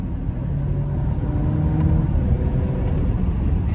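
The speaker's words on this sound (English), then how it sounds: "This car is so torquey from low down that you punch it and it takes off." An Alfa Romeo Stelvio SUV accelerates hard, its engine a steady, loud low-pitched roar and drone that holds throughout, heard from inside the cabin.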